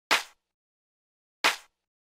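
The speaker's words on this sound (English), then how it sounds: "So then the next thing I want to show you is the snare," A layered clap and snare drum sample hits twice, about 1.3 seconds apart, each a sharp close crack with a short decaying tail over silence.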